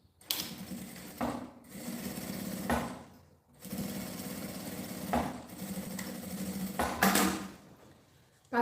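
A sewing machine stitches the lining seam of a fabric toiletry bag in several rapid whirring bursts separated by short pauses, close and clear with no talking.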